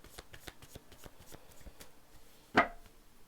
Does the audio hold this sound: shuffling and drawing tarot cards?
yes